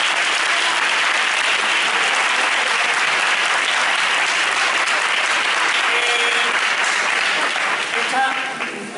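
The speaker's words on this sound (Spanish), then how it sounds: "Un aplauso." Sustained audience applause at a social theatre showcase staging of The Little Prince, a dense, loud wash of clapping that holds steady and then thins out near the end.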